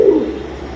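A single short, low coo from a silver pigeon, close and fairly loud, fading quickly into quiet background.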